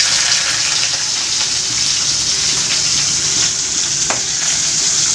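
Oil heats in a pan before onion goes in, giving a constant hissing sizzle with no pause, close by and fairly loud, with no voices.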